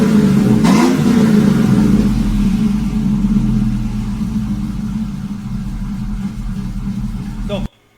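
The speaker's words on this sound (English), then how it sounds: "We'll let it idle for a moment and we'll give it a couple revs." Truck engine fitted with new exhaust headers, idling with a deep rumble after a quick rev early on, loud and close, with someone talking over it before it cuts off abruptly.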